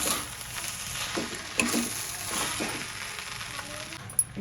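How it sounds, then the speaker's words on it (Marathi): Vegetable fried rice with soy sauce is stir-fried in a pan, giving a steady soft sizzle under repeated scraping stir strokes and a couple of sharp utensil clinks, close and moderately loud. "1 चमचावर घातला आणि छान परतवून घेऊया"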